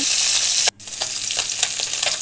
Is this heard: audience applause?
no